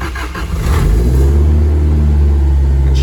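A Toyota Corolla TE31 with a swapped 3SGE engine cranks and fires, then settles into a steady, loud, close idle with a deep low rumble that holds evenly to the end.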